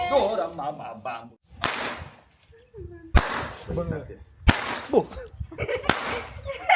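Four sharp, loud firecracker bangs burst at intervals, each a sudden crack that fades quickly, with people talking in between; the crackers are set off on the ground.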